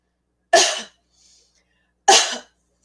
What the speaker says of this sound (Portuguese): Eu vou tossir